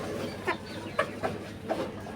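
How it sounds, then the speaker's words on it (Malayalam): Chickens kept on a home terrace garden cluck in a few short, separate calls, fairly close and moderately quiet against a steady background hum. "ഇതിലകം കോഴികളാണ്."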